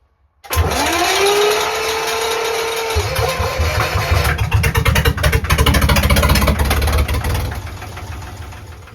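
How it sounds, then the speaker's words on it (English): A small boat engine starts with a rising whine and settles into a steady, knocking putter, loud and close, continuing evenly before easing slightly at the end. "So I can hear Andy's boat putting away"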